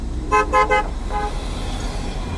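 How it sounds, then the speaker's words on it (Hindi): In city traffic, a car horn gives three quick toots in a row and then one fainter honk, all heard over a steady low rumble of road noise. "हॉर्न पे हॉर्न दिए जा रहा है"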